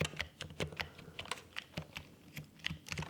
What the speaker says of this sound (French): Tout simplement un clavier d'ordinateur.